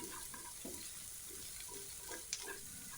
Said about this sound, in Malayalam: പച്ചമുളക്, ഇഞ്ചി, വെളുത്തുള്ളി, കറിവേപ്പില ഒക്കെ ചേർത്തിട്ട് നന്നായിട്ട് വഴറ്റാം